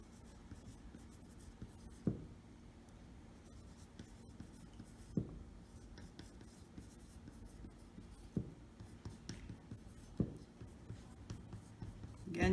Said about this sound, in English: So I'm gonna use a pencil and quickly sketch that on there.